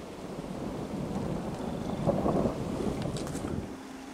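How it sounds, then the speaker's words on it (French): A thunderstorm over a wet forest, with steady rain and wind noise on the microphone and a low rumble of thunder swelling midway, no voices. "Ah, attention, il y a l'orage."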